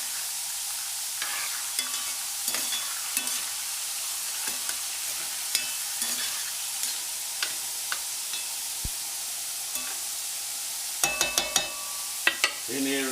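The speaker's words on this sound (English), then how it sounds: "Give them a stir." Chopped tomatoes fry in a pan for spaghetti bolognaise under a steady soft sizzle, with repeated scraping stir strokes and a cluster of louder utensil clanks near the end.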